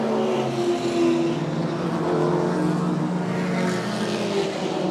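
Race cars at a 2021 QRDC round in Queensland roar continuously along the track into turn one, with loud, sustained engine drones layered together and no voices over them.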